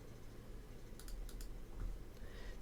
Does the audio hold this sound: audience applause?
no